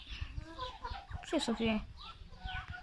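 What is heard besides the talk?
broody hens clucking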